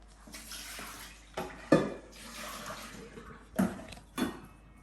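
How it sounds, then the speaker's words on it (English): Water runs from a kitchen tap into a container for washing raw chicken, a steady close splash broken by a few clunks of dishes or pots, with no talking. "So I'm going to get some water so I can wash my chicken in it."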